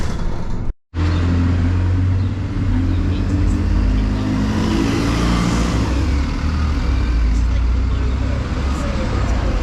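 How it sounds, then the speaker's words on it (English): Two buses, including a route 102 and a U10, pass on a Buckinghamshire road near Denham, a steady close engine rumble and road roar that fills the scene after a brief dropout, heard from a bumpy moving vehicle. "Two buses going past there."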